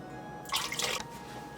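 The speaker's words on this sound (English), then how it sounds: "let's get the rest of the water in." Water poured from a container into a recipe mixture in a home kitchen, a brief splashing trickle lasting about half a second, close and moderately loud over a quiet room.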